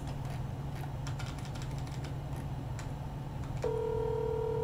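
A phone being dialed to call a friend: a run of short tapping clicks over a steady background hum, then a sustained tone begins near the end.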